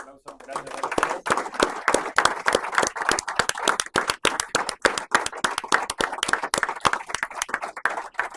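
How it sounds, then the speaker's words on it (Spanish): Strong audience applause closing a business panel session, loud sharp individual claps from a nearby crowd in a fast irregular rhythm, steady throughout with faint voices underneath. "Bueno, fuerte aplauso."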